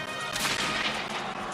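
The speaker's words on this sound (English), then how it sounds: "The weapon of choice for Charles VIII was a fearsome new cannon." Dense, rumbling roar of cannon fire and explosions from early modern artillery of Charles VIII's era, a continuous loud wash of blasts and crashing debris with no voices.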